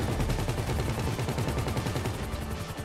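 Rapid automatic gunfire in GTA 5 during a heist setup mission, loud and close, a continuous rattling burst of closely spaced shots filling the whole stretch with no talk over it.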